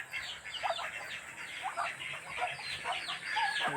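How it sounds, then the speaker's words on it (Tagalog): Ducks quacking in short scattered calls over a steady outdoor background hiss, with no one speaking. "Ayan mga pato. Ando na yung mga itik ko."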